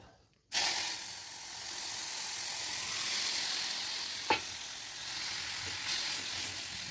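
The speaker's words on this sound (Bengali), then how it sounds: "আমি এবার তরকারিটা ঢেলে দিচ্ছি।" Bitter gourd and potato curry hits a hot pan and erupts into a sudden loud sizzle that holds as a steady frying hiss, broken by a couple of brief utensil clinks.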